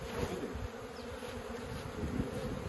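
Honeybees hum in a steady, close buzzing swarm, a continuous insect drone with slight swells and no voices, at a honey-producing operation in Nanporo town.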